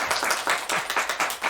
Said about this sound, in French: faites-lui un petit applaudissement, il le mérite